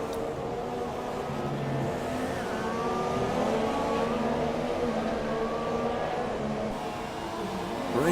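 Race cars roar wheel to wheel at the Brazil round of a racing video game, several engines whining and shifting pitch as they pass close together, a continuous loud drone without voices.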